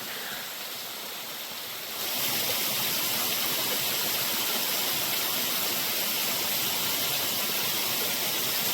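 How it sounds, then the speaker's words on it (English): A large waterfall on an Appalachian mountain trail roars as a steady, loud broadband rush, growing fuller and closer after the first couple of seconds, with no voices. "And you got the big falls up top."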